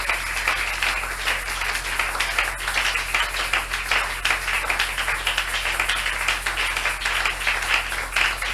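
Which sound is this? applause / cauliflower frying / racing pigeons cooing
applause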